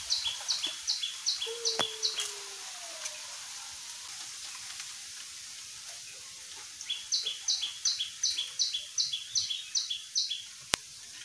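A small prinia calls outdoors in two bouts of quick, evenly spaced high chirps, one near the start and one near the end, with a faint hiss and scattered clicks between them. No one speaks.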